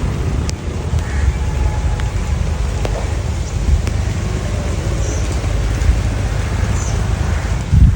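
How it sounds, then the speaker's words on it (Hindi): Steady light rain falls continuously with a dense hiss, mixed with low rumbling like passing traffic, and no talking. "बारिश हो रही है हल्की हल्की, कभी तेज होने लग जाती है"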